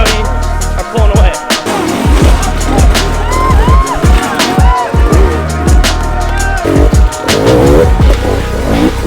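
Dirt bikes race on a beach at the Terra Inferno 2022 event, their engines loud and close. The revs rise and fall sharply as bikes roar past one after another without a break.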